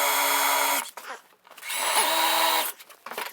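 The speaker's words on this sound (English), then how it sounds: "we need to drill right the way through for our bolts" A power drill boring right through a door to fit letterbox bolts, loud and close, running in two long whining bursts with a short pause and brief revving between them.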